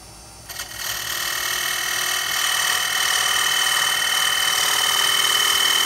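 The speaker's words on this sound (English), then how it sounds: "I'm going to use my bowl gouge and just true up the outside edge." A wood lathe spins at 1200 RPM while a bowl gouge trues the outside edge of a bowl blank, giving a continuous loud whirring, scraping hiss that rises in the first second and holds steady, with no talk.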